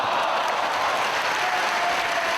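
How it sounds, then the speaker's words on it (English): Wrestling fans in a Chicago arena applaud steadily, a dense, continuous wash of clapping from a large crowd with no voices standing out. "And a round of applause from the fans here in Chicago."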